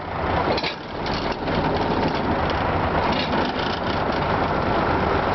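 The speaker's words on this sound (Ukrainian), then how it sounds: "вже починає починає навантажуватись мотор" A loud, dense mechanical roar of a hydraulic pump motor for a crane manipulator running under strain, steady and continuous with a brief dip near the start, no talking.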